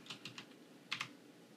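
Someone types a command on a computer keyboard while setting up a Minecraft server plugin: a few quiet, close key clicks, then a short pause and a quick double tap.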